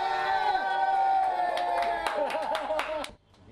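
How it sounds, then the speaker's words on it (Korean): Applause and cheering burst out as a guest walks into a cannabis café in Thailand, with clapping and excited voices close and loud throughout before cutting off abruptly near the end. "문이 열리고 손님이 입장하자 박수와 환호성이 터집니다"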